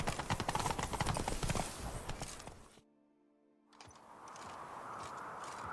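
Roach the horse trots along in The Witcher 3, her hooves clip-clopping in a quick steady rhythm. The hoofbeats cut off into a moment of near silence and then fade back in with softer ambient noise.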